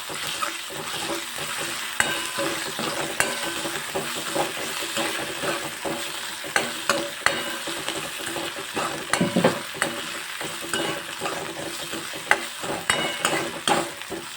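Ginger, chili and garlic paste sizzles and fries steadily in a pan for Rajasthani moong dal, with scattered stirring scrapes and small pops throughout; no one talks.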